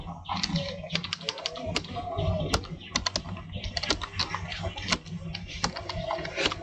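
Steady typing on a computer keyboard while entering an address into an online application form, with quick irregular key clicks close to the mic and no talk.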